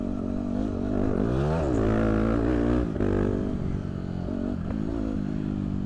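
Yamaha WR dirt bike under way, its engine rising and falling in pitch through repeated throttle changes, loud and close with a steady drone throughout.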